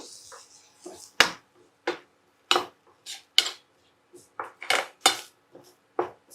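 Metal spoon clinking against a cooking pot while turmeric is stirred in, a series of sharp, separate taps and scrapes with quiet pauses between, close and clear.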